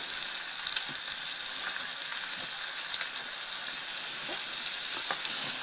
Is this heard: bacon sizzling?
yes